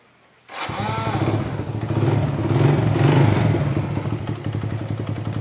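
An older Supra Fit motorcycle with a double starter gear cranks and catches after a brief click, then settles into a close, steady, slightly clattery idle with a mild rise in revs.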